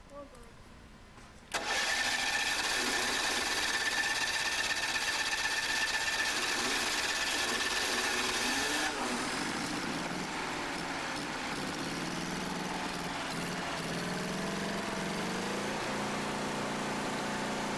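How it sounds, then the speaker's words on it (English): A World War II surplus generator engine is started outdoors at a ham radio field day. After a short quiet lead-in it catches abruptly and runs at a loud, steady idle, with voices talking over the running engine. "I believe that is a World War II surplus generator"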